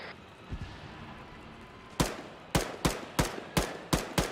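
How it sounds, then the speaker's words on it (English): Enemy gunfire in the Arma military video game during a large team battle: a faint pop early, then a close series of six sharp, loud shots at an irregular, roughly half-second rhythm, with no talking. "They're shooting at me."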